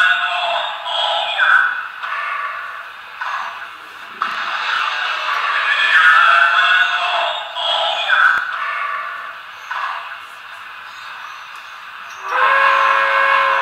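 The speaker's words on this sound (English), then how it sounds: "Oh, there's grade crossing horn again." A Broadway Limited PR1a model steam locomotive sounds its grade crossing horn, with several whistle blasts of varying length, moderately loud and close, with a final sustained blast at the end.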